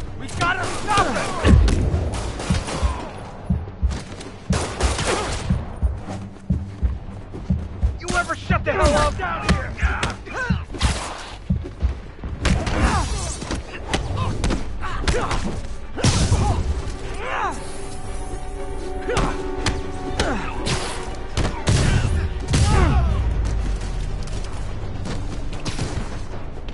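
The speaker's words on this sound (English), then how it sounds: "Yuri, an explosion just... I saw it." Repeated booms and crashing bursts of explosions in the Spider-Man video game, some heavy and close and some sharper, with game music and effects running underneath for the whole stretch.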